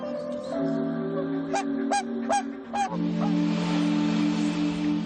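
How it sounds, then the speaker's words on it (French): Loud, repeated honking calls from barnacle geese, bar-headed geese, common cranes and swans, several in quick succession, over a steady low drone and a constant rushing background. "Oies bernaches, grues cendrées, oies à tête barrée ou cygnes, piaffent d'impatience de voler et veulent le faire savoir"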